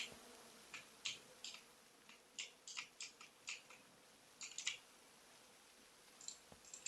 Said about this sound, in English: love the humming sound of these bees